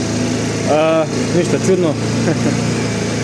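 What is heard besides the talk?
repaired Chinese motor engine running after starting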